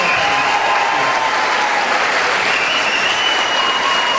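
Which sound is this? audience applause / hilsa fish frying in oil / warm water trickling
audience applause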